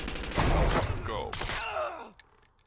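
In Door Kickers 2, a door breach by kick happens at the same moment as a wall shot: a burst of rapid heavy gunfire and crashing impacts up front, then creaking debris and scattered clatter fading out, with a voice speaking over it.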